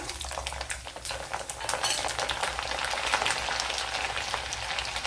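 Mustard seeds and cumin sizzle and crackle in hot oil for Gooseberry curry, a steady bright frying hiss with scattered pops running throughout, fairly close and alone.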